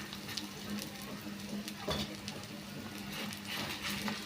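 Ragi and spring onion adai batter being patted onto a hot oiled dosa griddle, giving a steady, close sizzle with faint crackles and soft pats throughout, no voices.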